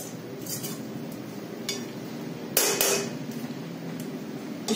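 A lid is set onto a cooking pot of mixed vegetables and spices with a few metallic clinks and one sharper clatter, close by over a steady low background hiss.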